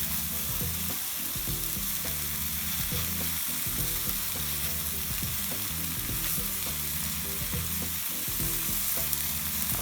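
Steady sizzling and crackling of tomatoes frying in a hot pan, continuous and fairly loud with no talking.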